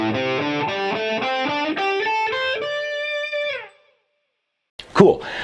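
Distorted electric guitar picks selected notes in a steady rising run from low to high, each note ringing into the next, loud and close, then stopping into silence before a short burst of other noise.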